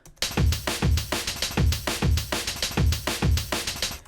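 A loud breakbeat loop triggered by Tidal code, eight steps cycling back to the first of five samples, with punchy kicks, snares and busy cymbals repeating in an even, driving rhythm without speech.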